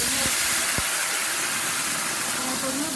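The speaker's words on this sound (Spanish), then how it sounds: "Ahora tengo un sartén con una cucharadita de aceite para ponerlo a sofreír." A blended sauce of tomato, chile, onion and garlic fries in a teaspoon of oil in a pan, giving a loud, continuous sizzling hiss with a couple of brief knocks, and a voice speaking faintly underneath.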